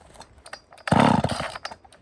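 A chainsaw with a 16-inch bar is pull-started, giving a brief loud catch and rough engine burst that quickly dies back after a few faint rattles.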